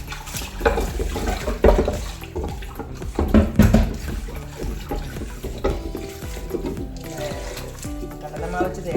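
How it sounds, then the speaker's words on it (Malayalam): Tap water runs and splashes as clay cooking pots are washed one at a time in a home sink, with clattering handling noises and someone talking over the steady flow. "ഇത് ഓരോ ചട്ടികളായിട്ട് നമുക്ക് നന്നായിട്ട് കഴുകിയെടുക്കാം."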